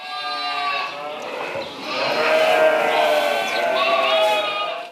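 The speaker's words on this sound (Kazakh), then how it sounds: "Қойлар қапалы ерде бақыла" Sheep and lambs bleat in a farm pen, with several overlapping, wavering calls close by that swell louder midway and continue for several seconds.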